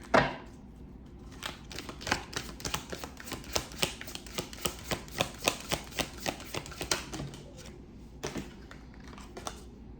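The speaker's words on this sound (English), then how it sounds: "See some cards flipped over." Tarot cards flipped and laid down one after another, a quick series of crisp slaps and snaps close by, fairly regular through most of the stretch before tapering off, no talking.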